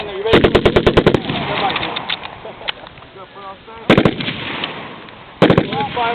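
Machine gun firing loud, rapid bursts at close range: a long opening burst of about a dozen shots, then two shorter bursts later, with voices talking faintly in between.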